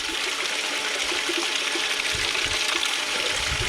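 Water rushes steadily down a short gold cleanup sluice at Nice Bucket Creek, a continuous close splashing flow with no talk.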